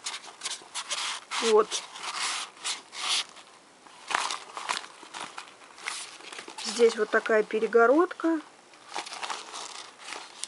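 An Avon "Lucy" handbag rustles and crinkles as it is handled, giving stiff, papery crackling bursts in bursts, with someone speaking between the rustles.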